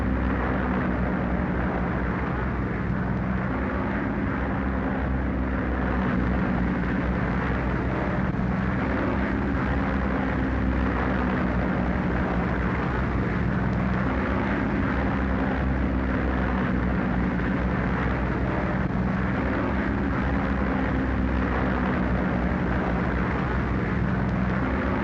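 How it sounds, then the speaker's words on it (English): Twin piston engines of an Airspeed Oxford propeller aircraft drone steadily at full power during takeoff from an airfield, a continuous loud rumble with no talk. "Oxford V3457 is just off the ground of Station 104."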